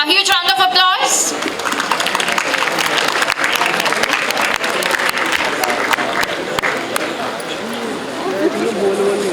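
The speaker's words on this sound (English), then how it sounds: "A huge round of applause." Sustained audience applause fills a conference hall at an international business event, dense steady clapping running throughout after a brief voice at the start.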